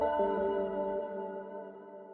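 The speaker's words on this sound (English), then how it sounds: "another bell." A single synthesized bell note from a beat-making program strikes once and rings out with a clear, sustained harmonic tone that slowly fades over about two seconds, alone and without talk.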